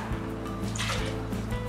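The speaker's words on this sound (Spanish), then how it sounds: "Vamos a poner en el vaso de la licuadora los 3 cuartos de taza de agua." Three quarters of a cup of water poured into a blender jar for a pollo pibil achiote marinade, a steady liquid trickle and splash lasting the whole short stretch at close range, with no voices.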